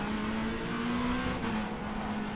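LMP2 race car engine in the rFactor 2 racing sim, a steady, sustained high-revving drone with a constant whining pitch and no breaks, loud and close with no talk.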